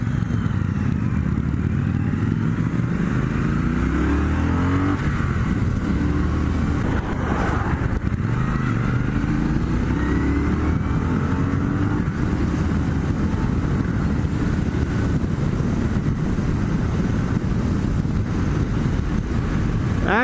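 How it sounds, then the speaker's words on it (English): A Triumph Bonneville T120 motorcycle accelerates hard through the gears, engine roaring loud and close with rising pitch sweeps between shifts, mixed with heavy wind rush. "I'm gonna open this bike up, like redline the shit out of it and see how much, see what it's got"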